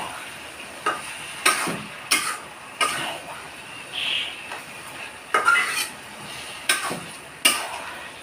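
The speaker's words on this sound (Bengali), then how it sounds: "নাড়াচাড়া দিয়ে মিশিয়ে দিতে হবে।" A spoon stirs bean seeds, gima greens and potatoes in a pot on a clay stove, making repeated soft scraping clinks at uneven intervals over a faint cooking hiss.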